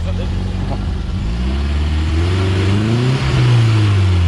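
A car engine revving up under the gas pedal, a low rumble rising in pitch with rising harmonics, loud and close, with people talking over it.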